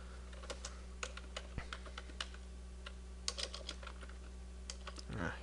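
Typing on a computer keyboard during a software program demo, scattered quiet key clicks in irregular bursts over a steady low hum, close and faint, ending with a brief louder rustle.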